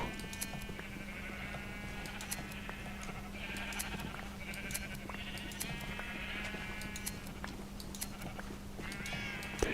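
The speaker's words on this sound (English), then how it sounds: "we are cutting so many sheeps, trimming their furs, getting some nice wool" Sheep bleat over and over in a shearing video game as their wool is trimmed, a steady chorus of overlapping cries spread across the scene above a constant low hum.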